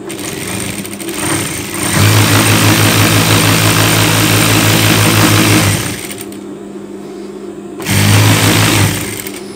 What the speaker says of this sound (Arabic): نمشيو نخيطو.